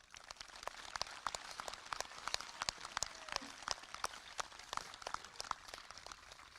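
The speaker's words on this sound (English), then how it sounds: "Please give these students a round of applause." Faint, scattered clapping from a spring graduation audience, soft and distant, with irregular claps spread across the clip.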